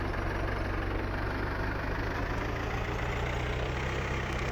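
An older modded tractor with a manual ignition idles in Farming Simulator 2013, a steady low rumbling engine drone that holds even and unbroken throughout, close and alone with no talking.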